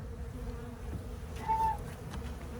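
Honey bees in a hive feeding: a soft, steady insect hum and buzz fills the clip, with one brief louder buzz passing close midway.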